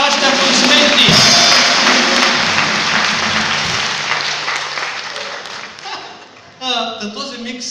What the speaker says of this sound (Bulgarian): Мария Накова, дами и господа, вашите аплодисменти